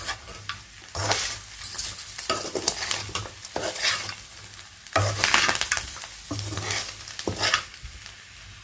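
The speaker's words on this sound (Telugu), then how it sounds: "కరివేపాకు కూడా వేసి ఇలా కలుపుకున్నాము" A spatula stirs Andhra-style spicy chicken fry with curry leaves in a pan, giving steady scraping and stirring strokes over a soft sizzle, close and alone.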